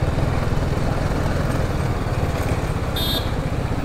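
A motorcycle engine runs loudly up close with a steady low throb while the bike pulls over to the roadside, and there is no talking.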